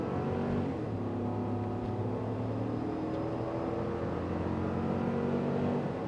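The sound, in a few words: 2024 GMC Yukon accelerating at full throttle onto highway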